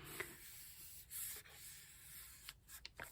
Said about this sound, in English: We're going to have this tape here and everything. I need to burnish that down.